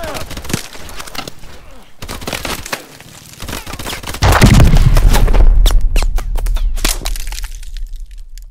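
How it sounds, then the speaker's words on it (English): Gunfire in the Call of Duty: Advanced Warfare battle at New Baghdad: sharp, loud shots crack out in irregular bursts, with a heavier rumbling blast midway and further bangs and voices amid the combat. "Return fire!"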